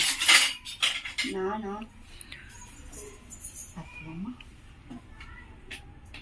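Metal spoon clinking against dishes in a home kitchen during Chettinad crab masala cooking, several sharp clinks at the start, then lighter scattered taps as people talk throughout.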